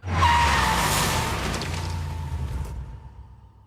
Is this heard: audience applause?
no